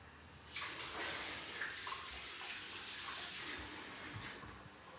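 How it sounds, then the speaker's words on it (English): Tap water runs steadily into a kitchen sink while hands are washed, a soft continuous splashing rush heard alone at close range. "I'm just going to wash my hands."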